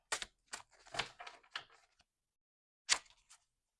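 Tarot cards being shuffled and drawn, a quick cluster of crisp clicks and flicks, then a pause and one more sharp snap of a card, close and quiet.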